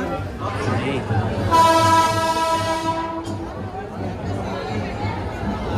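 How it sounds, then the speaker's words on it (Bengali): A passenger special train pulls into Kasimbazar station on the Krishnanagar–Azimganj line via the Nashipur rail bridge, its horn blaring loudly for a couple of seconds over rumbling wheels and a chattering crowd on the platform. "আমাদের ট্রেন এসে পৌঁছালো কাশিমবাজার স্টেশনে।"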